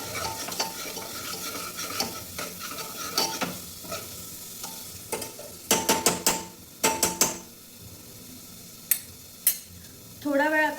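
Ground masala paste cooking in a pan at home, a quiet sizzle under clinks and scrapes of a spoon, then bursts of spattering pops and a few sharp metallic taps near the end.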